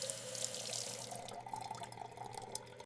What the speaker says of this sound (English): I fill the kettle.